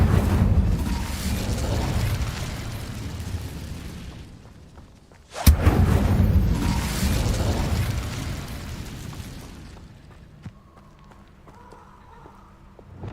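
A fiery Incendio spell cast in the Hogwarts Legacy game erupts with a sharp, loud burst, then a roaring whoosh of flame that sustains for several seconds before fading. It follows a quieter rumbling stretch, with no talking.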